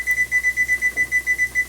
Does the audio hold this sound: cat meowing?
no